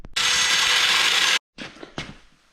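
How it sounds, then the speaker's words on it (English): An angle grinder cuts through a steel bar for a homemade Yamaha Blaster grab bar. A loud, harsh whine of just over a second stops sharply, then shorter, weaker grinding bursts follow. "an angle grinder to cut the steel"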